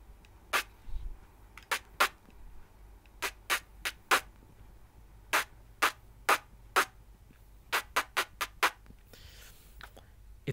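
Beatboxed speed snare made with the mouth, a voice imitating a snare drum: about eighteen sharp, crisp bursts in irregular runs and pairs, fairly close and alone over a quiet background.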